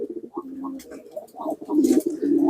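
A pigeon coos in low, rolling bursts while held in the hand, a few soft warbling calls close by with faint handling noise and brief speech around it.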